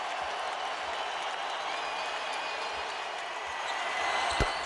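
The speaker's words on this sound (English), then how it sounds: "Crowd's on its feet for a career high for Kobe." Arena crowd on its feet at a Lakers home game against the Toronto Raptors, a sustained roar of cheering and applause, steady and enveloping, swelling slightly near the end.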